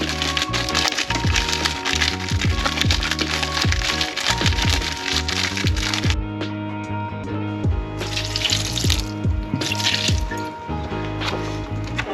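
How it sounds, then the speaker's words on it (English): Water runs from a tap into a container, a steady gurgling pour with bubbling rising pitch as it fills, loud and close for several seconds. "So I'm gonna fill it up to soy sauce about here, and then the rest is gonna go to water."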